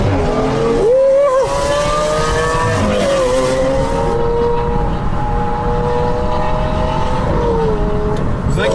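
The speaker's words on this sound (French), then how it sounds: "c'est juste la Aventador qui fait un bruit de taré" Lamborghini Aventador supercar V12 roaring loudly at close range while parking after a motorway toll, a sustained rumbling drone with rising and falling engine tones throughout.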